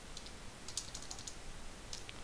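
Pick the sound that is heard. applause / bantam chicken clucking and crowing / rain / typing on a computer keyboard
typing on a computer keyboard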